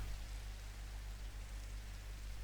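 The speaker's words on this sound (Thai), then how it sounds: "หรือมันฝนตกอยู่" Rain falls steadily in a video game, an even, dense hiss with a low hum beneath, continuous and unchanging throughout with no talk.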